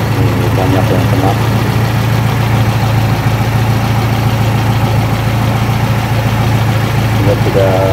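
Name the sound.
car engine idling roughly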